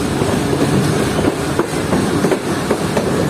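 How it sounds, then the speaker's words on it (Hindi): A train pulls into Khanpur Junction railway station, heard from on board: loud steady rumble of wheels on track with repeated clickety-clack joints and occasional squeals, continuous and close, with no talking. "हमारी ट्रेन एंटर हो रही है खानपुर जंक्शन रेलवे स्टेशन पर"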